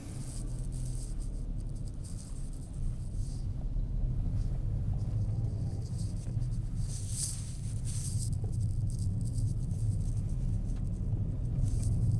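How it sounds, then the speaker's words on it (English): A big truck rumbles past on a mountain road just outside a village, a steady loud low drone with rattles heard from inside a descending vehicle. "Oh, there's a great big truck."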